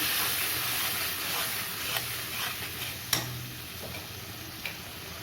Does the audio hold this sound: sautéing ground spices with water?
yes